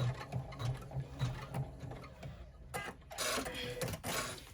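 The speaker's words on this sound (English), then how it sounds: "now we're just going to run a simple placement snap placement, and then a registration mark to use to center this on our bag" An embroidery machine stitches a simple placement line and registration mark for centering a design on a slim cell-phone bag, giving a rapid mechanical chatter with a low repeating thump and bursts of brighter whirring, close and steady.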